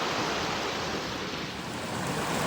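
Water rushes continuously where two creeks meet, a loud, broad, steady roar close to the microphone with no talking and no pauses.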